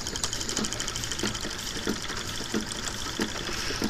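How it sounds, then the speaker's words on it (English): A late-1800s Stirling engine machine runs steadily with a quick, even mechanical ticking and clicking, close and moderately loud, with faint knocks recurring about every two-thirds of a second. "he would start the Stirling machine like this"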